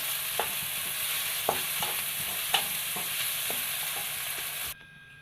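Bitter gourd sautéing in a pan for an egg curry, a steady close sizzle with a few sharp spatula scrapes and taps, cutting off abruptly near the end.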